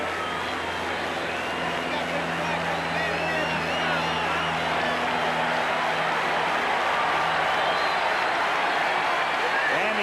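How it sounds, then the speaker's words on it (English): Baseball stadium crowd at a 1985 World Series game between the St. Louis Cardinals and Kansas City Royals, a dense sustained roar of cheering and clapping filling the whole stretch, with a broadcast announcer's voice over the noise. "Crowd has been reduced to cheering for the defense"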